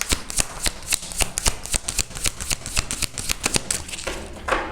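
Tarot cards shuffled and drawn during a pick-a-card reading, with a rapid series of crisp, close flicks and riffles in uneven bursts, no voice over them.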